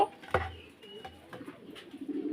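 Pigeons at a market coo softly in short low calls, with clicks and rustles and quiet background noise around them.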